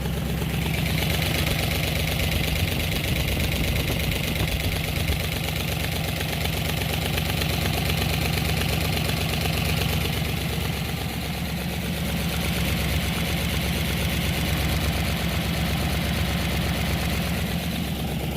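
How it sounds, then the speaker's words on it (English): A Buick 350 V8 car engine idles steadily with a low, even rumble and faint ticking, running continuously without revving or any voices. "as the engine runs, it turns the push rods at the same time"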